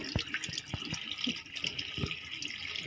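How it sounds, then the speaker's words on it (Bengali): Yardlong beans are rinsed under running water in a strainer, a steady close splash with several sharp drips and knocks landing through it, and no voices. "এখন একটু জালির মধ্যে দিয়ে আর একটু হালকা করে ধুয়ে নিচ্ছি"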